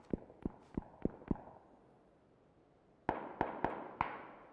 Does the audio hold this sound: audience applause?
no